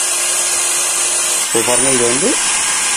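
A power drill fitted with a 3.5 mm bit bores into an air conditioner outdoor unit's aluminium coil, its whine rising and falling for about a second, loud and close, while someone talks.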